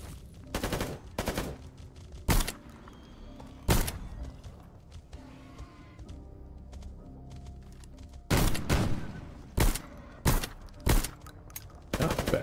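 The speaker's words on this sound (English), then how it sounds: "Shots." Video game gunshots ring out in sharp, loud bursts: a few single shots, then a rapid cluster of separate cracks over quiet background.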